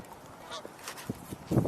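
A flock of geese honking outdoors on a windy day, several short, distant nasal honks scattered over low wind noise, growing louder toward the end as birds come closer.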